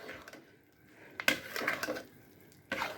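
Cooked rice being stirred into a ghee-fried coriander mixture in a pan, giving soft, faint scrapes and a few sharper clinks of utensil against metal, with no talking.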